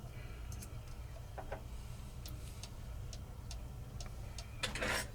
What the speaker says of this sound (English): you can see it's ticking